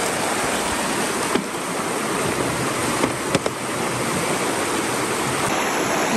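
A clear mountain stream rushes steadily and loudly nearby as water is collected from its bank, with a few faint splashes over the constant flow.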